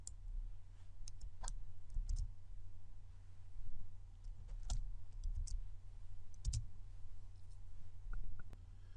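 Soft, sparse clicks of typing on a computer keyboard while entering a command-line search, scattered keystrokes at irregular intervals over a quiet low hum.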